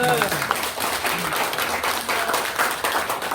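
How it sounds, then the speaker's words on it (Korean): A church retreat audience claps together in a sustained round of applause, fairly close and even, with a voice talking over part of it. "박수 한번 칩시다"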